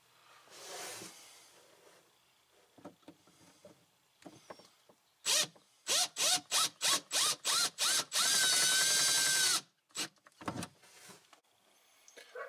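Number 8 sheet metal screws are driven into a Honda Talon cab heater vent intake, heard as a rapid run of short, loud, evenly spaced bursts from a power driver, followed by one long sustained whir and a few brief closing blips.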